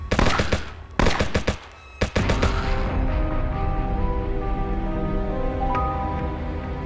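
Rapid bursts of automatic gunfire from the Android mobile shooter game Dead Warfare, loud and dense for the first two seconds, then a fading tail of game effects and music.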